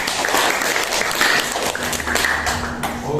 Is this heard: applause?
yes